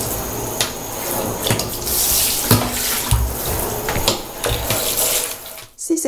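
Dirty water running down a surface scrubbed with homemade scouring cream, a loud continuous splashing flow with small drips and knocks, close and steady, no talk.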